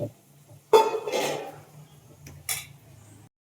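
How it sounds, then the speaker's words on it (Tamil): Metal utensil scraping and knocking against a cooking pot as Tamil-style fish curry with added water is stirred, a few close clanks with a sharp burst near the start and another short scrape later, no talking. "போட்டு நல்லா மிக்ஸ் பண்ணி விட்டுக்கோங்க"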